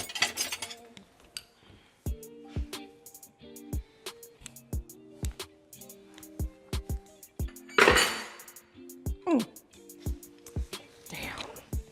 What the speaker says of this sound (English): Let me grab a spoon.